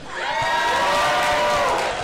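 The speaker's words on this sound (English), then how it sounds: "Well, what a raucous crowd we got here. Can you make some more noise?" Raucous crowd cheering and whooping at a pinball expo launch event, a loud, sustained roar of many voices with shrill shouts, steady for two seconds.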